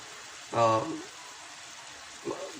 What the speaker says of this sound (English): I'm going to take another pan just to saute my rest of the ingredients and make it ready